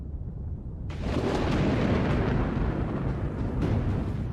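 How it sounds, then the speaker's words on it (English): Thunder from a storm breaking over the Kalahari: a loud, deep rolling rumble bursts in after a quiet second and keeps booming and crackling for several seconds, with no voices. "a storm begins to brew."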